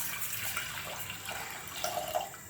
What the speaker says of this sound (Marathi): या भांड्यामध्ये थोडंसं पाणी टाकून घेते.